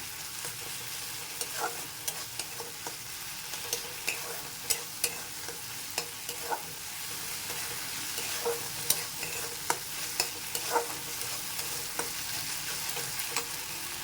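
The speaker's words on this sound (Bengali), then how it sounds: "এটাকে নাড়াতে হবে মশলা যত কষাবে তত ভালো" Spice paste for prawn curry sizzles in a pan while being stirred, with a steady faint frying hiss broken by regular clinks and scrapes of the spoon, and no voices.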